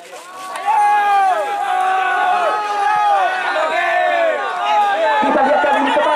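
Spectators at an amateur football match in Indonesia cheer and shout loudly, a dense continuous roar of many voices with rising and falling calls, sustained from start to finish.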